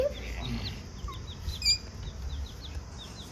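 A chicken clucks softly nearby amid quick high chirps from other birds, with low background rustling.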